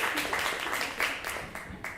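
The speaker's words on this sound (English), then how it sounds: "Please give him applause." Audience applause at a vocal department industry showcase, a steady wash of many hands clapping for a singer, with a few louder claps standing out near the start and middle, fading slightly toward the end.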